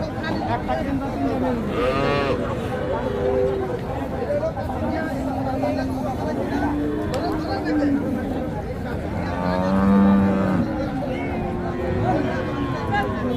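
Calves and cattle at the Hazratpur livestock haat near Dhaka give occasional moos and bleat-like calls amid constant crowd chatter, with people talking throughout.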